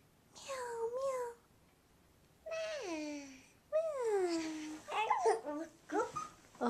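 A 13-month-old toddler's voice makes a few rising and falling meow-like calls, imitating a cat, with short pauses between them.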